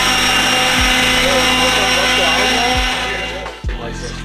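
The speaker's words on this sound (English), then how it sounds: "Get the blower and try to dry that thing off as best we can so we get the tape stick." An air blower dries the bumper area of a Toyota 4Runner, giving a loud, continuous close whine and whirr that shifts slightly and dips near the end.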